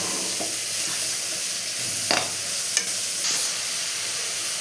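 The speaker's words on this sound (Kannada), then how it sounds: "ಈರುಳ್ಳಿ ಹಾಕ್ಕೊಂಡು ಚೆನ್ನಾಗಿ ಬಾಡಿಸ್ಕೊಳ್ಳೋಣ." Chopped onions sauté in a pan with a steady, close sizzle and frying hiss, broken by a few scraping stirs of a spoon, while a South Indian meal is being cooked; no voices.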